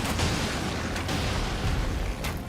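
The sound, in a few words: fireworks going off outside the window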